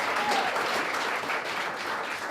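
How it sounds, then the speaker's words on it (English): A crowd at a Greens campaign launch for the seat of Higgins claps for Richard Di Natale: steady, full applause from many people that holds at an even level throughout. "Round of applause for Richard."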